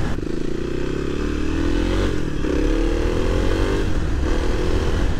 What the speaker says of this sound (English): on the KLX, I can rip down this thing and hit every pothole and feel great